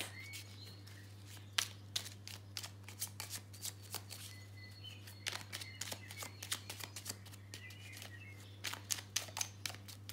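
Oracle cards are shuffled for a reading in repeated soft riffles and sharp slaps, fairly close and quiet, over a low steady hum with no talking.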